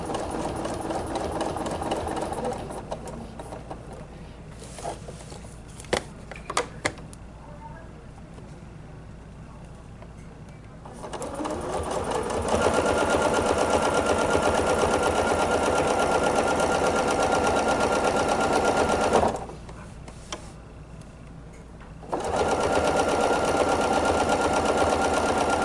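A sewing machine stitches a table runner along a ruler in bursts of rapid, steady mechanical whirring, stopping and restarting with quiet pauses between runs, close and loud.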